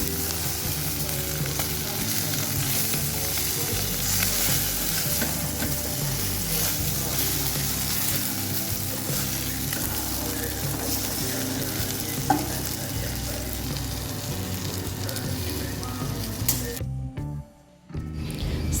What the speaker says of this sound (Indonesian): Ini kita tumis sampai layu seperti ini ya.